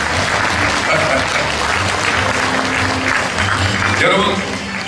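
An awards-ceremony audience applauds at a gala honouring a popular trot singer, broadband clapping with a faint tonal music bed beneath and some crowd murmur.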